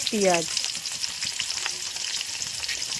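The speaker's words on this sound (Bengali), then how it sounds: "মাছ ভাজার তেলে দিয়ে দিলাম গোটা জিরা, সাথে দিচ্ছি কুচো করা" Whole cumin and chopped onion sizzle steadily in oil left from frying katla fish, with a faint stir near the start and the crackle continuing at close range without talk.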